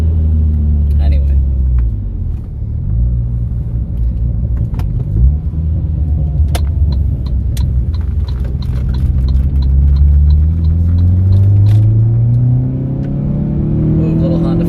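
Saab 9-5 winter beater running after an engine oil flush, a low engine rumble that rises and shifts in pitch as it moves, with a few sharp clicks and knocks and a voice talking now and then.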